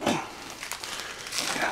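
A well-wrapped package of silver and copper bullion being pulled and torn open by hand, close crinkling and rustling of wrapping through the moment with short louder swells.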